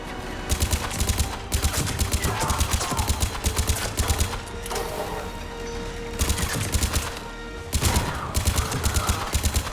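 Sustained automatic gunfire in Mass Effect 3 during a battle with Cerberus troops, loud rapid bursts repeating in steady clusters across the clip with brief lulls between volleys.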